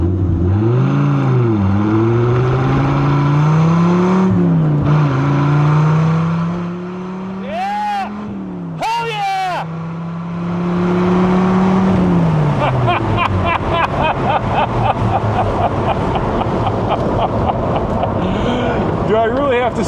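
A 10-cylinder Viper sports car with side pipe exhaust revs hard, its engine note rising and falling in loud sweeps, pausing briefly, then settling into a rough, rumbling burble, with wind buffeting and people talking at times.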